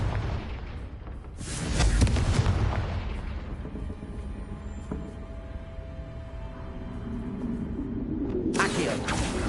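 A fiery Confringo spell blast from Hogwarts Legacy on PS5 lands as a heavy, booming explosion, followed by a rumbling tail and a second sharp burst near the end.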